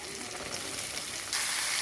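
Corn kernels sizzle loudly in a pan with browned chopped onions, a steady close frying hiss that swells suddenly as more corn hits the hot oil.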